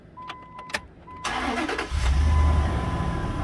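A used car's engine cranks briefly after a few faint clicks, catches and settles into a steady, fairly loud idle with a low rumble, heard up close with no talking.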